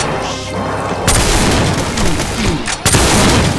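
Heavy gunfire and booming impacts in Doom Project Brutality, loud and close, with bursts of shots at about one second and again near three seconds, and a dense rumble of fire and crashes between them.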